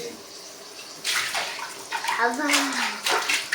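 Cooking utensils are washed under a running tap, with water splashing and gushing in bursts while people talk nearby.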